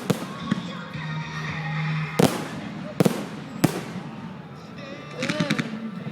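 Fireworks bursting in Scotland: three sharp, loud bangs with trailing crackle, then a fizzing, crackling burst near the end, over steady background noise and music.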